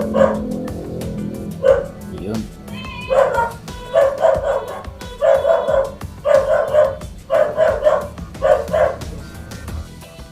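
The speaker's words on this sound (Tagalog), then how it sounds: "may bisita po kanina and tumatahol po yung aso" A dog barks repeatedly at a visitor, a series of loud, close barks in quick groups, with some talking in the background.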